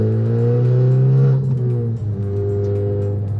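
A highly modified Honda Civic Type R FK8 with a Remus turbo-back exhaust and downpipe revs loud and close, a sustained engine drone that drops off with crackling pops from the exhaust.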